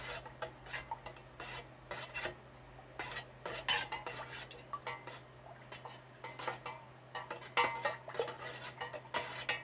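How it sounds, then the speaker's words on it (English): Melted wax for homemade wax melts being stirred in a pot, giving repeated scraping, rasping strokes of a utensil against the container at a steady uneven rhythm, close and clear with a low hum beneath and no talking. "Give it a good stirring."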